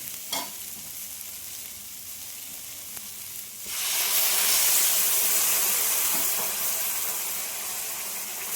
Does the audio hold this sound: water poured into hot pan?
yes